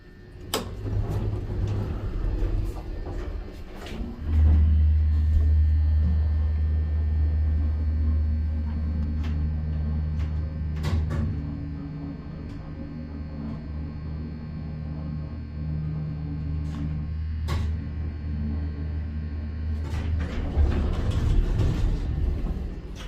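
A Burlington hydraulic elevator's motor runs with a steady low hum and drone that holds for the whole stretch, with faint clicks and clunks from the lift car over it.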